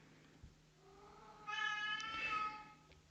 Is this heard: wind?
no